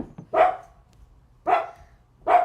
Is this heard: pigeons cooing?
no